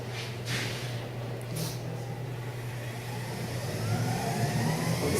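A homemade educational DC electric motor runs steadily, giving a continuous low hum with a faint whir above it, close and even in level, growing slightly louder toward the end, with no speech over it.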